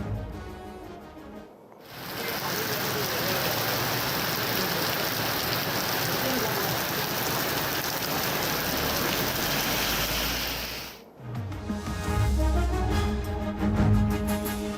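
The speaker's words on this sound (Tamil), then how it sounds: "நெல்லையில் பரவலாக இடி மின்னலுடன் பலத்த மழை." Heavy rain pours steadily in Nellai during a thunderstorm, a dense, loud wash of drops hammering surfaces for about nine seconds, with no distinct thunder clap standing out.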